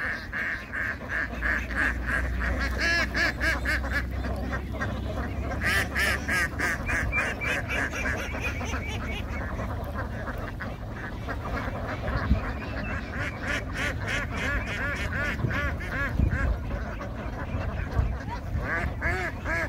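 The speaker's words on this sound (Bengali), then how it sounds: "সব রঙিন হাঁস" A flock of ducks on a floating duck farm in the Chalan Beel wetland quacks nonstop, many overlapping calls forming a loud, busy chorus up close for the whole stretch.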